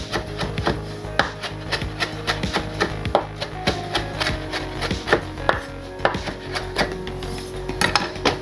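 Knife chopping fresh thyme and rosemary on a cutting board in a home kitchen, a steady run of close, crisp taps with quicker bursts, no talking.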